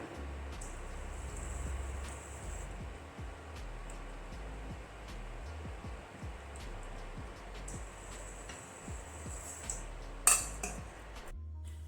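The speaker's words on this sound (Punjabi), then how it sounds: "ਹੁਣ ਬੈਟਰ ਦੇ ਵਿੱਚ ਪਾ ਦਵਾਂਗੇ ਤੇ ਮਿਕਸ ਕਰ ਦਵਾਂਗੇ ਬੈਟਰ 'ਚ ਪਾ ਕੇ" Crushed cardamom seeds being mixed into malpua batter in a bowl, a run of repeated close clinks and scrapes of a spoon against the vessel, fairly quiet, ending with a sharper knock near the end.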